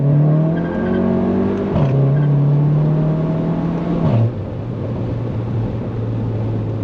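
A modified VW MK7 GTI engine pulls hard under full throttle from 30, its drone climbing steadily with two brief dips like gear shifts, loud and close throughout.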